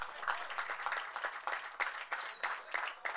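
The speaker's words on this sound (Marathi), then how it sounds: "जोरदार टाळ्या स्वतःसाठी होऊन जाऊ द्यात।" A crowd applauds steadily at the prize ceremony of the Bhatibander Premier League 2022 in Virar: dense clapping with rhythmic surges, fairly close and continuous throughout, with no one speaking over it.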